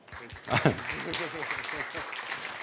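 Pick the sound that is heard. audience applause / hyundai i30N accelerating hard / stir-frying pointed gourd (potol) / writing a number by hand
audience applause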